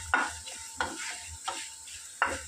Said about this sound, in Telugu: కరివేపాకు కూడా డ్రై రోస్ట్, అన్నీ డ్రై రోస్ట్ చేసుకోవాలి